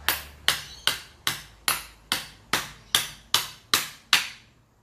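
A kukri knife chopping into a wooden stump, eleven sharp woody blows landing at a steady, even rhythm, each ringing briefly before the next, close and loud with no talking.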